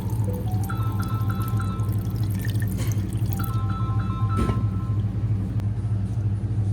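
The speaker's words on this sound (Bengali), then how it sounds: "ছাঁকনিটা দিয়ে দুধটা ঢেলে দিব।" Milk blended with dates pours steadily through a strainer into a bowl, making a continuous close liquid trickle over a low kitchen hum, with faint clinks and a short knock midway.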